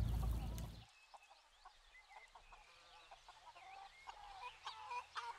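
Chickens cluck and murmur at a moderate distance on a chicken farm, in short repeated calls over a quiet yard after a brief loud noise at the start.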